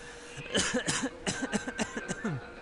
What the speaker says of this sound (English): it's gotta be the fakest cough I've ever heard